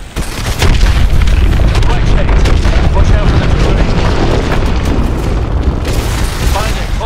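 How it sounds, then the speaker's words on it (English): Missile strikes and explosions in the video game Call of Duty: Advanced Warfare during an aircraft assault on a hydroelectric dam, a continuous loud barrage of booming blasts and rumbling debris, with voices talking over the chaos. "Lock onto those hard points and hit them with your missiles."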